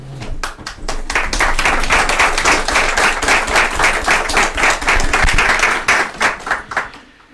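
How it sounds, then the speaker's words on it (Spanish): An audience at a talk on gender perspective breaks into loud, sustained applause, many hands clapping densely for several seconds before thinning out into scattered claps at the end. "Primero, nuevamente un gran aplauso por todo este enfoque que nos dio Catherine"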